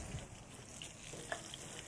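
Chicken frying skin side down in a pan, a steady soft sizzle that stays faint and even throughout, with no voices over it.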